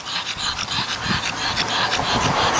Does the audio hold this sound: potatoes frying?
no